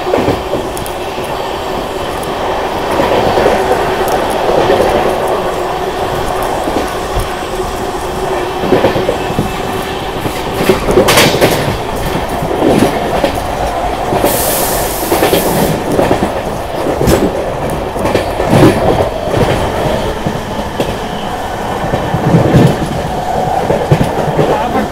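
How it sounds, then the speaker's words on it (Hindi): Amrit Bharat Express passenger train racing through Panki Dham station at about 130 km/h, heard from on board: a steady loud roar of rolling wheels with rhythmic clickety-clack and a brief hiss as it passes the platform, with no talking. "अभी हमारी ट्रेन पनकी धाम रेलवे स्टेशन को स्किप कर रही है 130 की रफ्तार से।"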